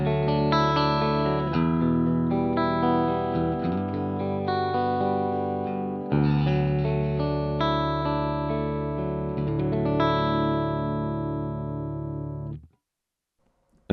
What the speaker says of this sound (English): So with it dialed back, here's how it sounds.